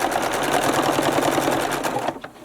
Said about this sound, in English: Back stitch forward. Keep sewing and remove the needles as you go.